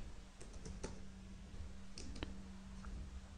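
Quiet keystrokes on a computer keyboard, a few scattered clicks entering a command, heard alone over a faint steady hum.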